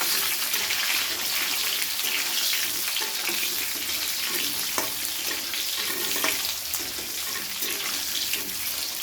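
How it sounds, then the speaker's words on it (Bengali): Thin, long-cut potato slices fry in a pan over a high gas flame, giving a steady, dense hiss and crackle throughout with faint scrapes of stirring. "আলুগুলোকে প্রথমে হালকা করে একটু ভেজে ফেলবো।"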